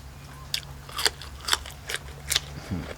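Fresh melon being bitten and chewed up close, with about five crisp, juicy crunches spaced through a short stretch and no talking.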